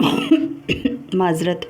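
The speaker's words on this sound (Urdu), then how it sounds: "گلا خراب ہوا ہے، کھانسی لگی ہے۔" A woman with a sore throat coughs a couple of times in short, close bursts, with speech before and after.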